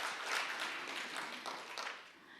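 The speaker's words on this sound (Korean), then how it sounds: "우리 주님께 영광의 박수 돌리겠습니다" A church congregation applauds during a Sunday evening worship service, a quiet, steady wash of many hands clapping together with no clear voices over it.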